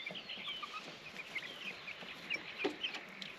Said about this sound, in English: They're all pecking that one chicken in the beak.